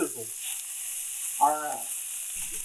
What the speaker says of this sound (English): Oh, listen to that sweet baby sizzle.